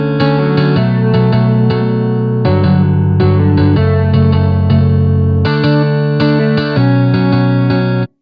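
Programmed emo guitar loop in which a rhythm guitar plays chopped, rhythmic chord stabs with lead accent notes on top, loud and effected with chorus and echo, breaking into several phrases and stopping abruptly at the end.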